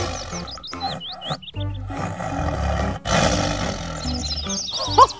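A toy tiger plays a recorded roar, several loud growling roars in a row, close and electronic, with chirpy background sounds between them.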